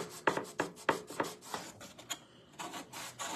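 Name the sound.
paste scraper scraping chalk paste off a reusable surface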